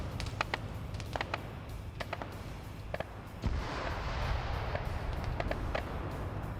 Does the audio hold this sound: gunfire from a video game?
yes